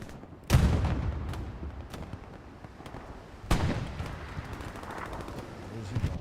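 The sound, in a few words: machine gun fire in a video game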